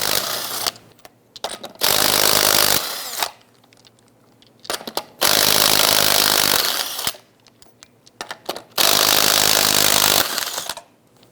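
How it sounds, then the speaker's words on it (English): Lug nuts are loosened and removed from a 1999-2004 Jeep Grand Cherokee wheel with a 19mm socket on a power tool, three long loud sustained whirring bursts separated by quieter clinks and handling noises. "Using our 19mm socket, go ahead and loosen and remove the lug nuts."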